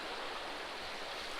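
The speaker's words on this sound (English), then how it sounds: "where this water drops down right here, right in front of me, forms like a little mini waterfall" Water drops down a small mini waterfall on a gravel bar of the Kern River, a steady, even rush of broadband splashing noise with no breaks, fairly faint and alone.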